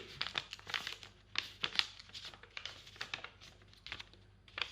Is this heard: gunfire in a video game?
no